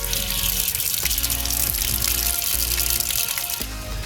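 Water running steadily in a toy building-block car wash, a continuous close splashing gush with a few small plastic knocks, no talk.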